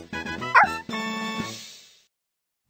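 A cartoon puppy in a Dora the Explorer game yips and barks in a few quick, bright, close bursts, ending in a drawn-out whimpery tone.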